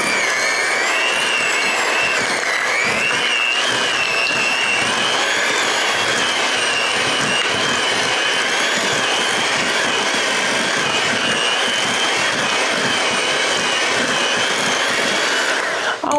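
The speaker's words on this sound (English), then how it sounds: "So I'm just going to start with creaming my cream cheese first." An electric mixer creams cream cheese in a bowl with a loud, continuous high whirring drone that holds steady throughout and stops abruptly at the end.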